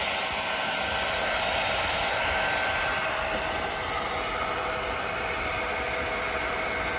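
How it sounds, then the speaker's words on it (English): A hair dryer on low runs steadily off a 1500 W pure sine wave inverter, a constant airy whir with a faint high whine that holds unchanged throughout, with no voices. "Again, this hairdryer on low."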